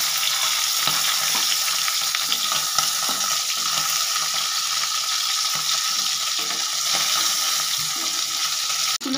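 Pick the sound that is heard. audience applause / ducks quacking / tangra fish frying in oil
tangra fish frying in oil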